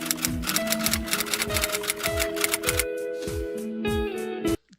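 Rapid typewriter key clacks serve as a sound effect for on-screen text, a quick run of sharp clicks ending in a bell-like ding, with no voice over them.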